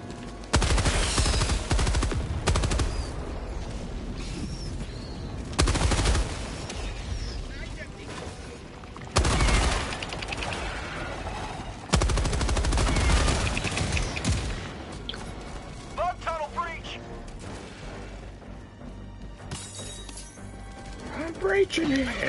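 Bursts of autocannon fire and other gunfire crash out in repeated loud volleys during a Helldivers 2 match, with game mechanisms clicking between the salvos and a player talking over parts of it.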